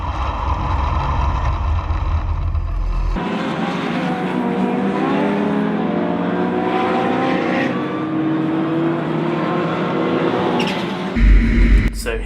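Citroen Saxo race cars at a race start at Brands Hatch, engines roaring loud and near with rising revving tones as the pack accelerates away, a heavy thump and louder burst near the end.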